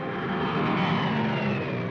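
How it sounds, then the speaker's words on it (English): Wartime de Havilland Mosquito weather plane in flight, its piston engines giving a steady, loud, continuous drone throughout with no pauses or talk. "Weather planes such as this Mosquito"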